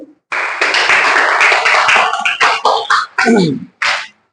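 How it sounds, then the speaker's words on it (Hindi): A classroom group claps during a maths lesson, with a dense run of hand claps lasting about four seconds and broken by a few short gaps near the end. "ताली बजा दी।"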